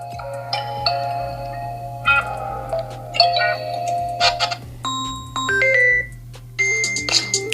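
A ringtone plays from the single speaker of a Samsung Galaxy A05s, a close, clear sequence of chiming bell tones in short melodic phrases over a steady low hum.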